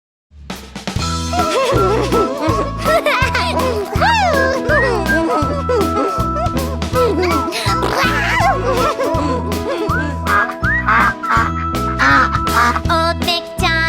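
Baby duck quacking in a children's Old MacDonald farm song, cartoonish quacks over a bouncy steady beat with melodic accompaniment throughout.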